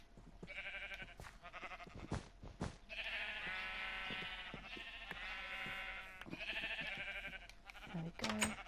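Minecraft sheep on PlayStation 4 bleat repeatedly, several wavering, buzzy baas following one another at close range, broken by a few short sharp clicks, with no talking.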